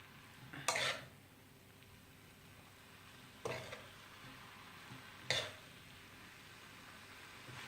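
Chow mein noodles and vegetables are tossed in a pan, with three separate bursts of scraping and clattering of utensil against the pan over a faint sizzle, each followed by quiet.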